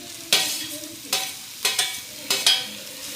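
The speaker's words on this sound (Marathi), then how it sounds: "असं परतून घेते" Chopped ridge gourd sautéing over low heat in a pan, a soft continuous sizzle broken by five sharp spatula scrapes and stirs spaced unevenly.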